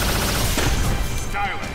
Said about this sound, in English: Proton cannon!